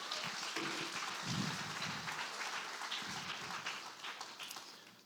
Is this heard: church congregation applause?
yes